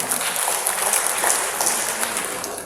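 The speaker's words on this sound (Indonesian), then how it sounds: "Tepuk tangan untuk kita semua." Dense, steady applause from an audience at the opening of an English teachers' meeting in Blitar, a continuous crackle of many hands clapping nearby without pause.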